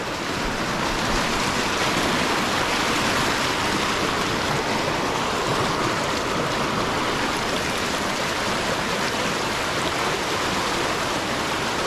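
Continuous rushing of flowing water, steady and fairly close, with no voices.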